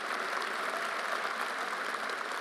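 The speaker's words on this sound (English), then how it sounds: "You could applaud that." A school theater audience applauding, a steady, dense wash of many hands clapping that holds evenly throughout with no voices over it.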